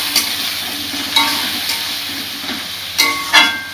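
Cumin powder, coriander powder and ground spice paste frying in a pan for an aloo paneer curry, a steady close sizzle broken by several sharp scraping stirs, with no talk.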